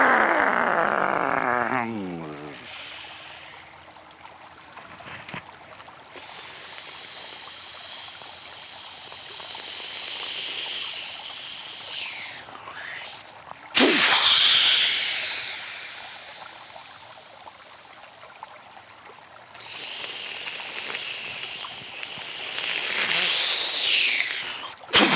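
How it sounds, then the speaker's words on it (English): Little waves wash on a seashore in gentle rolling surges, a soft hiss that swells and fades several times, fairly close and calm. "you can sit and listen to the little waves on the seashore"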